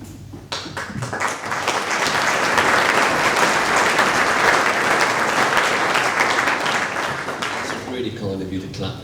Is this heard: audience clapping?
yes